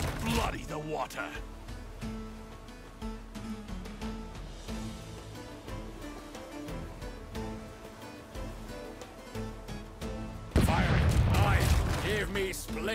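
Ship cannons firing in the naval video game Rogue Waters, a rapid series of sharp booming shots with loud impacts and a heavy blast near the end, mixed with game music and voices.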